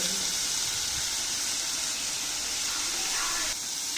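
Onions with salt sizzle steadily in a hot pan for a Sundakkai varutha curry, a continuous bright frying hiss with no talk over it.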